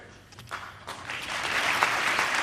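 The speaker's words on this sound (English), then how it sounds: "the congressmen all applaud" Members of Congress applaud President Obama in the chamber, a dense broadband wash of many hands that starts thin and swells steadily louder over a couple of seconds, with no talking.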